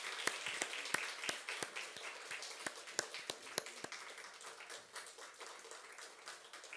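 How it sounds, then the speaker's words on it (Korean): Clapping in a church welcomes a small vocal ensemble at an evening revival service in Cheongju, 2023. Individual crisp claps stand out within fairly sparse, moderately quiet applause that continues at a steady pace throughout. "박수로 우리 맞이하겠습니다."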